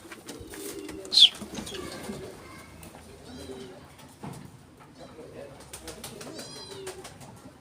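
Pigeons coo in short low bursts while wings clap now and then, with a sharp close flutter early on; someone talks and hushes nearby outdoors.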